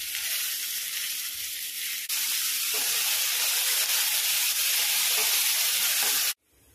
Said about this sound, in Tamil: இப்போ நான் வந்து வெட்டி வச்ச ரெண்டு தக்காளி ஆட் பண்ணுறேன்.